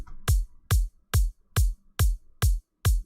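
A kick drum synthesized in Serum 2 with no ring modulation, played as seven evenly spaced punchy hits, each with a sharp bright click and a deep booming low tail, loud and isolated with no talking.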